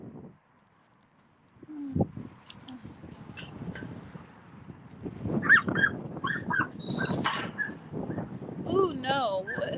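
A dog at a dog park whimpers and gives short vocal sounds close by, mixed with a person talking and some bird-like chirps in the background.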